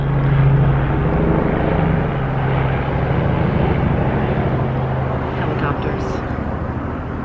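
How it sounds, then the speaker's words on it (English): A loud, steady helicopter drone fills the whole stretch in Maui, Hawaii, a constant throbbing roar that sounds close overhead. "Helicopters."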